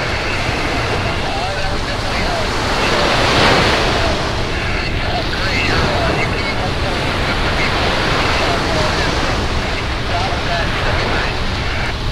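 Atlantic Ocean surf washing onto a beach, a steady loud roar of breaking waves mixed with wind buffeting the microphone, continuous for the whole stretch with no voices.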